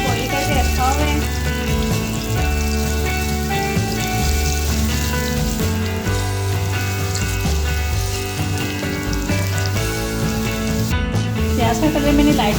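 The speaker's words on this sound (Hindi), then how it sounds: "और प्याज को अच्छे से फ्राई कर लेंगे।" Onions fry in a pan for a macaroni recipe, giving a steady close sizzle and crackle throughout, with background music running underneath.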